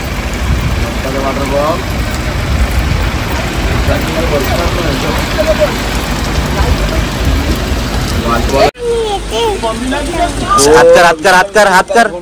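Steady rain pours down outdoors for most of the stretch, a dense continuous hiss with people talking over it, then cuts to a quieter scene with voices and a few sharp knocks near the end.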